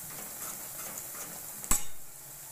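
A spoon stirs turmeric and chili powder into gavran corn-kernel usal in a pan. It gives one sharp clink or scrape against the metal over a quiet kitchen background, then fades.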